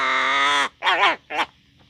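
A pet crow gives a long drawn caw followed by two shorter raspy calls, close and loud in a quiet room.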